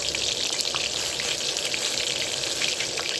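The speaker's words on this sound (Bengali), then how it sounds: "প্রথমে আমি একটা গোটা পেঁয়াজটাকে ভেজে একটু লালচে লালচে করে নেব।" A whole onion fries in hot oil for a village-style prawn curry, giving a dense, steady bubbling sizzle that holds at an even level throughout.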